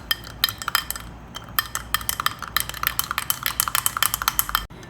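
Yeast, sugar and salt are stirred into water with a utensil in a bowl, giving rapid, irregular clinks and scrapes that tap along steadily at close range with no talking.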